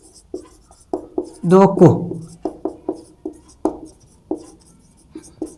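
Pen scratching on paper while solving maths, short strokes in an irregular rhythm close up, with someone speaking Hindi briefly over the writing.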